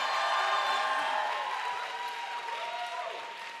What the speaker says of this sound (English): Can we get one more round of applause for all of our amazing seniors that performed in Senior Bhangra?